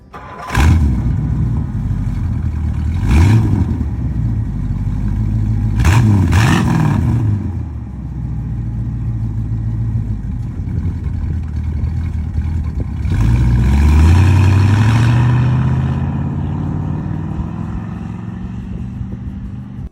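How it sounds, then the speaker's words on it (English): A 1964 Ford Thunderbird with a 390 V8 and a new Edelbrock 650 carburetor, cranking and firing up with several short revs, then settling into a deep, loud idle before another rising rev. "This 1964 Thunderbird is powered by a 390 V8 engine"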